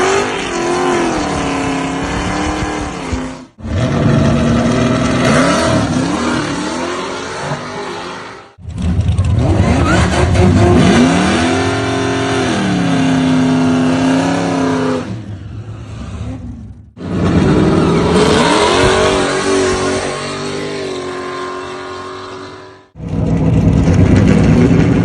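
A drag racing car at Tulsa on a Route 66 trip revs its engine loudly and close by in long sustained bursts, the pitch climbing and falling, with a few short pauses between pulls.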